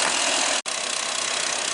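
A 2007 Toyota Sequoia with a 4.7 liter engine idles with a dense, steady hiss and hum, broken by one sharp dropout just over half a second in, then running on evenly.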